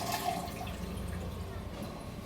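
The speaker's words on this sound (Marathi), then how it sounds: "धुवून घेते जरा" Vegetables are rinsed under running water in a home kitchen, a steady splashing wash that continues throughout with a low hum underneath.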